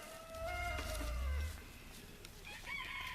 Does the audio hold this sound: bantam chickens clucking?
yes